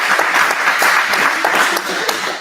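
An audience at the Roselawn Center applauds the mayor with loud, close clapping that is dense and lively, with individual hand claps standing out, before it tapers slightly at the end.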